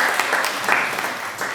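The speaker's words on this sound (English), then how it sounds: "round of applause for that" Brief burst of audience applause at an aerospace engineering congress, a dense wash of many hands clapping at moderate loudness, with no voices.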